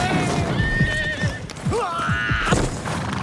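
A horse neighs loudly over steady clip-clopping hooves, with a second high whinny rising near the end.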